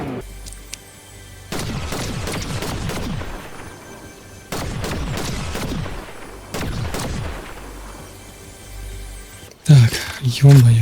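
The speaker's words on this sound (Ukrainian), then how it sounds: "Там стріляниночка йде." Gunfire in the Fortnite video game comes in several loud volleys of rapid shots with booming, echoing tails. Quieter gaps fall between the volleys, and louder game sounds and a voice come in near the end.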